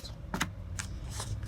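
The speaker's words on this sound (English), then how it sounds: "when you shuffle the cards" A tarot card deck being shuffled by hand, a few quick soft riffling bursts of cards close by, fairly quiet, with no voices.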